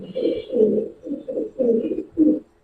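Giribaz pigeons, silver khaki birds among them, coo close by in about six throaty rolling calls with brief gaps between them, clear and with no talking.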